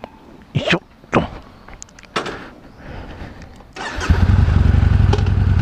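A Yamaha Bolt motorcycle gets going on a country road, with a few short thumps and clicks before the engine and wind noise swell into a loud, steady drone.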